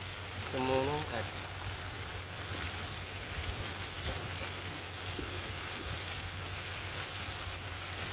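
Rain and wind sweep over a fisherman's boat covered by a tarp in the Mekong Delta, a constant close hiss with gusty texture; a brief voice sounds near the start.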